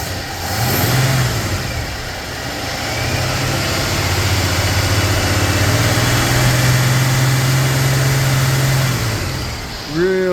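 A 1965 Ford F100 pickup's FE V8 engine idles with a deep, steady rumble, rising briefly in a couple of revs before settling back, close by and without speech.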